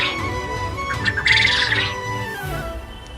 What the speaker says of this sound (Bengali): কোয়েল পাখি আছে ভাই ভিতরেতে।